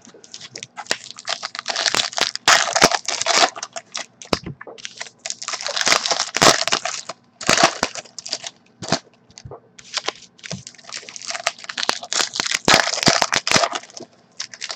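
Foil wrappers of 2018 Topps Big League baseball card packs being torn open, giving a steady run of close crinkling, ripping and crackling bursts with short pauses between packs and no talking.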